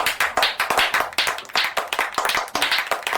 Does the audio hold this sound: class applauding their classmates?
yes